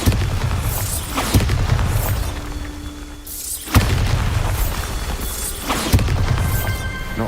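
Bombarda spell explosions in the video game Hogwarts Legacy: several deep booming blasts with sharp onsets, spaced a couple of seconds apart, each rumbling off under a busy game soundscape.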